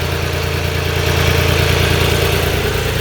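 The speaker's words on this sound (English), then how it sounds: "It's got a Nuffield engine." A Nuffield tractor engine idles steadily under a lifted engine-bay cover, a loud, close, continuous low rumble with an even mechanical throb and no talking.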